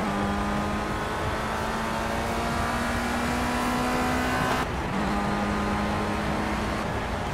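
Race car engine in Project CARS at Oulton Park, a steady loud high whine holding pitch, then dropping sharply as the driver brakes and climbing again back on the throttle.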